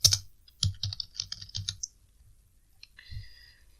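Typing on a computer keyboard while writing HTML code: a few quick bursts of key clicks with short pauses, close and fairly quiet, with no talking.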